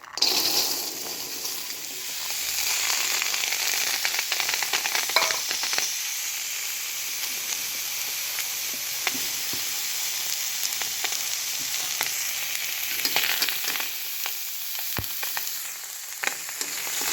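Washed, shelled field beans (pavta) dry-roasting in a pan give a steady, close, hissing sizzle throughout, with scattered light stirring clicks and no talking.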